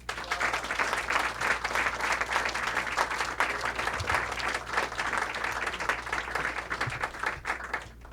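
Sustained audience applause for Scott Simon at a talk about his book "My Cubs: A Love Story," dense steady clapping from a sizable crowd lasting about eight seconds before fading slightly at the end.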